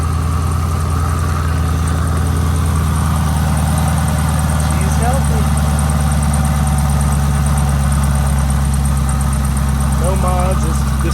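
A stock Chevrolet Camaro ZL1 with its supercharged 650-horsepower LT4 V8 idles steadily, a deep continuous rumble close by, while a person talks over it.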